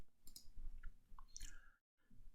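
A computer mouse clicks on the Create button in Adobe Illustrator, a few soft, close clicks with faint room noise and a brief silent gap, no speech.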